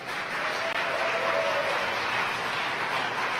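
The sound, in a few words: applause of the crowd at SpaceX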